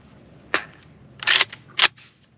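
Three sharp gunshots from a Draco Mini AK-47 rifle at an outdoor range, fired in an uneven burst, loud and close, each with a short ringing tail and no talking.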